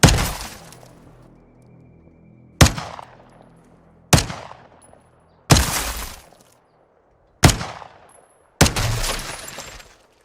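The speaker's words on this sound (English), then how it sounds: "in Modern Warfare 2, the windows can take a few shots before breaking and have different stages of damage" Windows in the video game Modern Warfare 2 take gunshots and shatter, six sharp cracks spaced a second or two apart, each trailing off into tinkling, crumbling glass.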